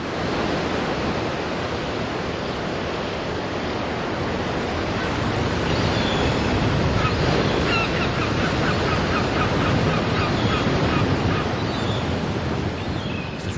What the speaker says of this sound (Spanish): Este es un sonido vinculado desde hace muchos siglos a la familia Álvar González, el sonido del mar, y en este caso del mar Cantábrico.